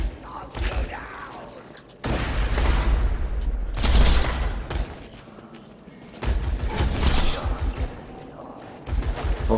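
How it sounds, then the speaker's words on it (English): Grenade explosions in Borderlands 2 during a side mission, several heavy booming blasts in rough succession amid gunfire and game noise. "Grenades."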